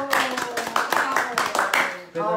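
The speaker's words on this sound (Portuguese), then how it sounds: "Uma salva de palmas." A small group claps at a New Year's Eve house party in Zurich, giving a brisk round of palms; rhythmic, close claps in quick bursts over lively voices and background music.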